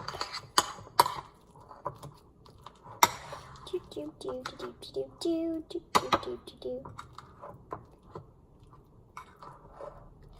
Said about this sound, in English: So now you're gonna want to finish stirring this up.